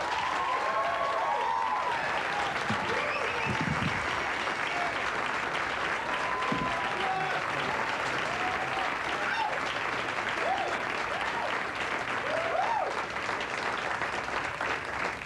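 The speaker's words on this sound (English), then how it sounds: "Let's give a rousing welcome to our first act, Jeff Stilson." A comedy club audience applauds a comedian's entrance at a 1990s New York show, steady dense clapping with some cheers running loud throughout.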